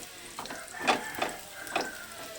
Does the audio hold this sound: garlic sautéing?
yes